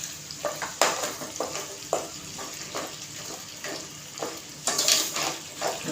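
Ground masala paste sizzles as it is stirred in hot oil for a village-style crab curry. A continuous frying hiss runs under repeated scraping and stirring strokes, close up and with no talking.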